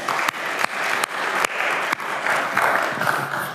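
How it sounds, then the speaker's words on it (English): A conference audience applauds a speaker, Pere Urbon-Bayes, before his talk on multi-threading programming and parenting. The applause is steady and dense throughout, with a few sharper claps standing out. "please give him a warm round of applause"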